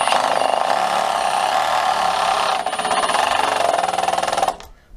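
Milwaukee hydraulic impact driver on 2nd speed sinks a 5x70 screw, giving a loud, continuous buzzing rattle of rapid impacts that runs steadily for several seconds, dips briefly midway, then stops abruptly near the end.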